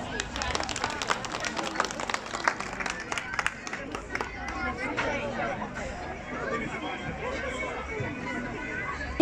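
Audience clapping at a Romanian village folk music festival, a burst of many hands near and lively that thins into crowd chatter and murmur.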